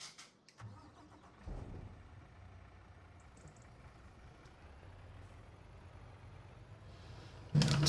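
A truck engine in Farming Simulator 25 cranks and starts with a short whirr, then settles into a steady mid-pitched idle that continues, close and even, before a sharp burst at the end.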